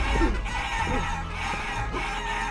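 Clucking chickens in the video game Guacamelee, several short squawking calls in a loose rhythm over a steady game soundtrack, with no voices.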